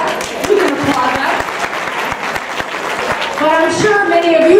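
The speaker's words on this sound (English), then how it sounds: "Yeah, we can applaud that." An audience at a Republic Day celebration applauds at a speech, a patter of clapping under a speaking voice that continues over it.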